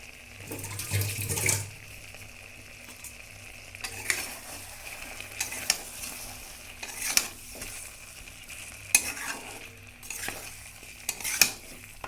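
Chicken fries in a pan as chopped dried chili goes in, a soft sizzle broken by intermittent stirring and scraping bursts, with no voices.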